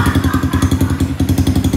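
A Yamaha Sniper 155 motorcycle engine runs close by, just started, in a steady, loud, rapid idle pulse with no talk.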